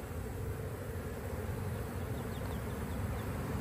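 Honey bees buzz continuously during a hive inspection while a nuc is installed into a 10 frame box, a dense, close, steady droning hum with no talk.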